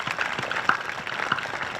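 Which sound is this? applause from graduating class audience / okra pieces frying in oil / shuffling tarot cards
applause from graduating class audience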